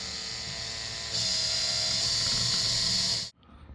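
A power drill whirs as it drives a screw into a tiki torch skull, a steady close mechanical buzz that rises in pitch partway through before cutting off abruptly.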